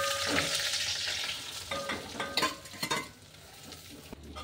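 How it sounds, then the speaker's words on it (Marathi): Vermicelli roasts in ghee in a pan for kheer after cashews and almonds are toasted, a close crackling sizzle under several sharp scraping and tapping stirs of a spoon against the pan, with no voices. "आता शेवाळ्या पण भाजून घ्यायच्या."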